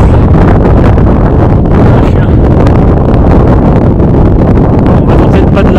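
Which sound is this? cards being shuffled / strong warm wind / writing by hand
strong warm wind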